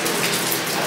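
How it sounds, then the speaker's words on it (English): Water dripping and trickling inside a tunnel, a dense, hissing wash of small splashes heard up close with no talking. "Where's the water dripping from?"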